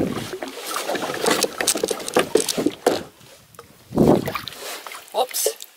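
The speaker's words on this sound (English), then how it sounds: "Paddling time." Paddle strokes from a solo 18.5-foot canoe outfitted for an expedition on a lake in Algonquin, giving irregular splashing and watery swishes that swell and fade, close and fairly loud, with brief quiet gaps between strokes.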